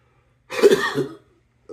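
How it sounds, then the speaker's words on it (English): A single harsh cough burst, close and fairly loud, lasting about half a second, followed by silence and a faint start of another sound at the end. "All that coughing you doing?"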